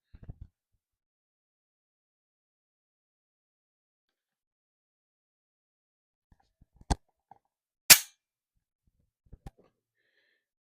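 Bolt release pressed on a VFC Avalon MK18 airsoft rifle gives two sharp, close clicks in a quiet room, with a few faint taps and handling noises around them.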